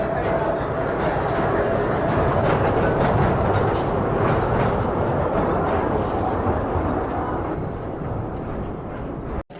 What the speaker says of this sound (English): here's the train for those who get there here a little earlier and manage to take one.